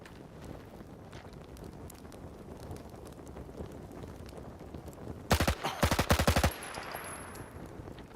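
Gunfire from a weapon in S.T.A.L.K.E.R. 2, a sudden rapid burst of about a dozen loud shots near the end, following quiet wind-like ambience.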